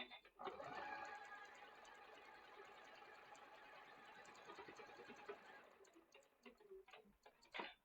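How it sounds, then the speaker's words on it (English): A sewing machine stitches a foundation paper-pieced quilt block at a short 1.1 stitch length, running in a fast, steady, close-up rattle for about five seconds, then stopping and leaving a few faint clicks and handling noises. "I'm just going to go to the sewing machine and sew from there to there along that line there"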